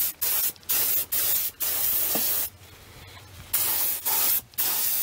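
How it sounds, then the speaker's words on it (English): Airbrush spraying glaze onto a clay fruit bowl, repeated loud hissing bursts of varying length separated by short pauses. "today we're going to now glaze the bowl with the airbrush"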